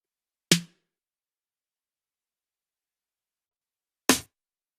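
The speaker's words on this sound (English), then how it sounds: "let's have a listen and see what each of those snares sound like" Two isolated electronic drum snare hits, spaced several seconds apart with silence between, each a sharp dry crack that dies away quickly.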